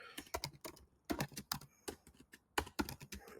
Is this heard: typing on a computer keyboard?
yes